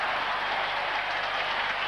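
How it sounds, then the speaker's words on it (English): A rugby league crowd at a 1980 Manly versus Souths match roars and applauds after a try behind the uprights, a loud, continuous wall of cheering and clapping with no break. "He's brought the crowd to their feet"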